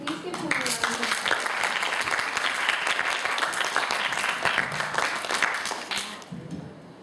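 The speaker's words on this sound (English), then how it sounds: "Please give him a round of applause." Listeners at a middle school English-language speech competition give a round of applause for the next contestant: sustained, crowded clapping that starts with a brief voice and fades out near the end.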